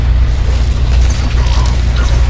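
A BFG 10,000 cannon fires in a video game as a loud, continuous mechanical rumble with a heavy low-end roar and grinding, ratcheting texture that holds steady throughout.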